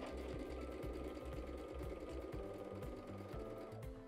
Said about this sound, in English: So now I'm able to push that seam underneath my foot and continue sewing.